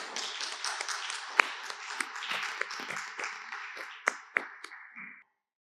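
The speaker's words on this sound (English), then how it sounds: "Could we all give Tom a round of applause" A conference audience applauds a speaker with a round of fairly quiet, dense clapping and a few sharper individual claps, which tapers off and stops.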